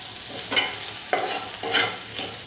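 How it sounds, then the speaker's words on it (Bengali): Onion with crushed ginger and garlic frying in a pan for masala dosa, a close crackling sizzle broken by a few rhythmic scrapes of stirring, moderately loud, with no voices. "এখন এই পেঁয়াজের সঙ্গে আদা রসুনটা একটু ভালো করে ভেজে নেব।"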